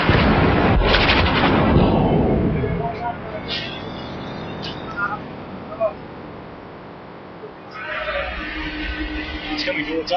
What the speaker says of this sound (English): As we depart, the first rounds come hurtling overhead.